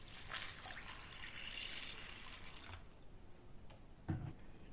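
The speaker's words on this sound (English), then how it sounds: "I'll now add some water to it." Tap water pours and splashes into a container of soaking soya beans, a steady trickling stream that tapers off near the end, with a brief clunk as it stops.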